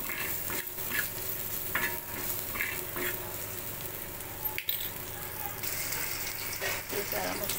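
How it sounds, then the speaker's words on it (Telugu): Masala paste with coriander powder and garam masala frying in a pan for egg tawa fry, a continuous close sizzle with repeated scraping strokes of stirring and a sharp clink midway. "పేస్ట్ వేసి మంచిగా ఫ్రై చేసుకోవాలి"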